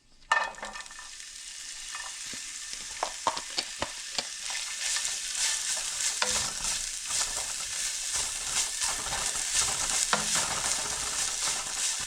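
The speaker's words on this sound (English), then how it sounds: "the first thing to go into the frying pan is I want to cook the ginger" Chopped ginger sizzles steadily in a hot frying pan, with occasional scraping stirs and light taps of a utensil against the pan.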